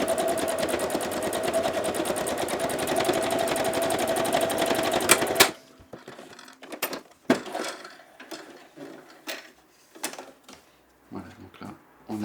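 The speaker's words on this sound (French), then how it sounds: "je vais commencer à coudre ici" A sewing machine stitching a jockstrap runs in a fast, steady whir for about five seconds, close and loud, then stops, leaving soft fabric rustling and handling clicks.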